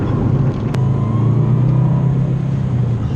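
Subaru Impreza WRX engine humming steadily from inside the car while driving, a continuous mid-pitched drone with a low rumble, moderately loud and unbroken throughout.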